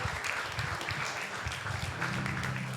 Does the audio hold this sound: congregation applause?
yes